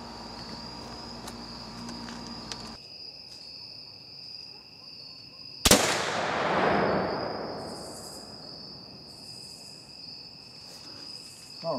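A muzzleloader rifle fires a single loud shot at a target outdoors, a sharp crack followed by a long rolling echo that fades over several seconds, with insects chirping steadily in the background.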